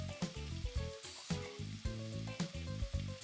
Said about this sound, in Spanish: la vamos a poner a freír en una sartén con un chorro de aceite de oliva junto a la zanahoria también picada